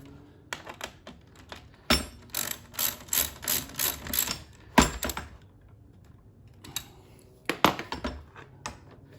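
Bolts on a Herman Miller Aeron chair being tightened with a ratchet during a tilt lock repair give rapid runs of clicking pawl strokes in rhythmic bursts, close and crisp, separated by short pauses and metallic clinks, with no talking.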